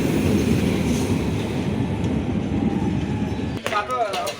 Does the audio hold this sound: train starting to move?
yes